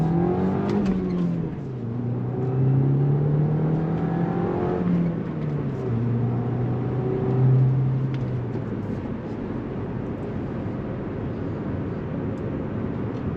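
Audi A4 (2009-2016) with a Borla S-Type cat-back exhaust cruising, heard from inside the cabin with the windows up: a steady, subdued low engine hum with gentle rises and falls in pitch as the car shifts and accelerates, no drone.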